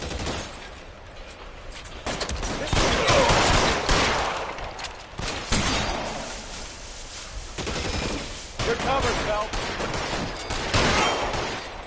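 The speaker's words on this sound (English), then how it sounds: "I did not mean to shoot the table right in front of me." Repeated bursts of gunfire ring out across a comedic short skit, volleys rising and falling in loud clusters with brief gaps, no talking over them.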